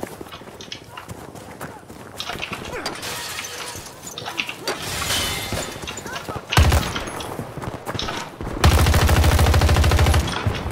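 Battlefield 2042 gunfire rings out in bursts of rapid shots and louder sustained volleys, mixed with footsteps and game effects, while a player talks over the action.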